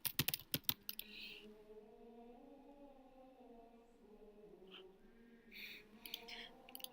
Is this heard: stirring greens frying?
no